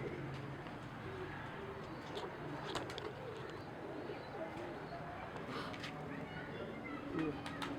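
A female pigeon coos softly at a champion pigeon keeper's loft, the low calls faint and intermittent beneath someone talking close by, with other bird chirps scattered in the background.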